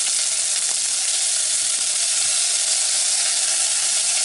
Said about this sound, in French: Quand l'huile est chaude, je mets une poignée d'oignons